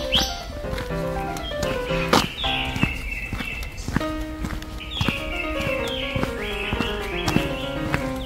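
Birds sing in a park around the royal tomb grounds at Donggureung in spring, with bright chirps and warbled phrases repeating throughout, some near and some farther off, over steady outdoor ambience; a clip-clop-like tapping also appears.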